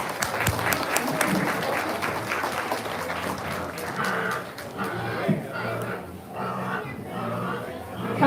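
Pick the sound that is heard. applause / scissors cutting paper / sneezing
applause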